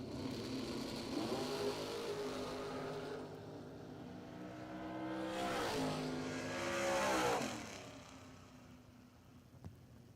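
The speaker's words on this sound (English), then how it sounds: "Sammy Hollingsworth goes 21 on the tree, taking the win" Drag racing cars launching down the track at a bracket racing event, engines roaring and revving, with a loud surge as the cars accelerate away before the sound fades.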